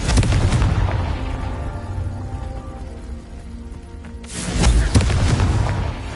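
Confringo explosive spell blast in Hogwarts Legacy, a loud booming detonation at the start that rumbles and decays, followed by a second heavy blast a few seconds later.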